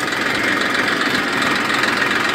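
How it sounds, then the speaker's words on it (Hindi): A small Massey 1035 DI diesel tractor engine idles nearby with a steady, rough, knocking rumble. "मैसी छोटा सा ट्रैक्टर है, 10-35 DI"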